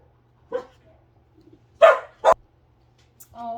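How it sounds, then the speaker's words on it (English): A dog barks indoors, giving a few sharp, separate barks and yips spread over a few seconds, moderately close against a quiet room. "I told you were going to hear a bark"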